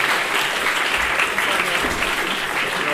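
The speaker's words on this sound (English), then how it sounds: "Let's give it a applause." A university philosophy society audience claps in sustained, dense applause, a steady loud wash of many hands with no individual claps standing out.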